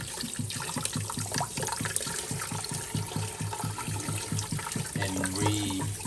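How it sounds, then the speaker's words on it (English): Water rinsed out of a pot after boiling bones for soup, a steady rushing, splashing flow from a tap with a rhythmic pulsing underneath, loud and close throughout. "Why are you rinsing out the water?"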